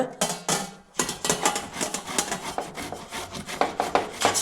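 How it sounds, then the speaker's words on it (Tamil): Peeled tapioca root rubbed against a metal vegetable grater, giving rapid, rhythmic rasping strokes close up, one after another with a brief pause near the start, no voices. "இது மாதிரி காய் சீவரத்தில் வச்சு துருவி எடுத்துக்கலாங்க"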